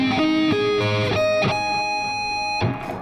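A distorted electric guitar plays a sweep-picked run with hammer-ons through multiple keys. It moves as a quick series of bright stepped notes and ends on a held note, with a fresh pick attack near the end.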